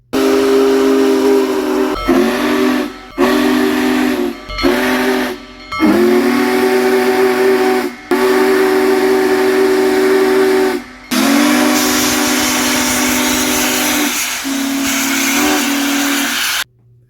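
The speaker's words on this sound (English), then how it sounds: "the big boy carries a Hancock 3-chime steam whistle" A loud, deep Hancock three-chime steam whistle on Union Pacific Big Boy locomotive 4014 blows in a series of long and short blasts separated by brief pauses, with hissing steam beneath.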